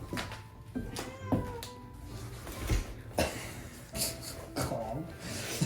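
A cat meows and yowls insistently several times, close and agitated, over rubbing and scuffing noises.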